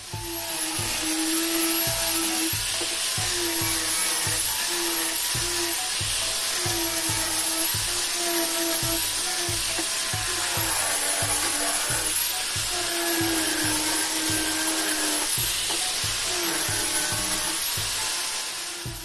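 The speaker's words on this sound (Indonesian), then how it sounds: "tinggal kita merapikan saja menggunakan amplas ya" Continuous whirring of a power sander working on a wooden kitchen spice rack, steady and close, with a regular pulsing rhythm and no talk.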